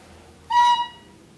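A single sustained Sundanese bamboo suling flute note, an octave note, rings out clearly for about half a second, bright and breathy, then fades quickly into quiet.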